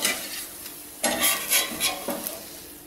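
A sago thalipeeth (javvarisi rotti) is flipped and roasted on a pan, with close bursts of sizzling and a few quick clatters of a spatula against the pan over about three seconds.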